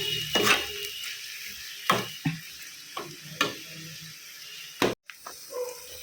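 Onions roasting in a pan as chicken dry is cooked, stirred with a utensil: soft sizzle beneath a series of sharp scraping and stirring strokes, close and moderately loud, with no talk.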